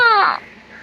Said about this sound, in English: sorry for the little baby background noise